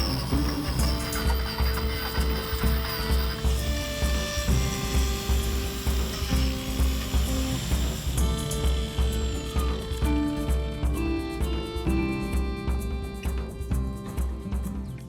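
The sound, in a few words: carving bark-like texture into a wooden bird bath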